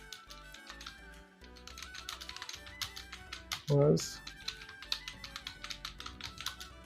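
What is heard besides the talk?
typing on a computer keyboard for typing practice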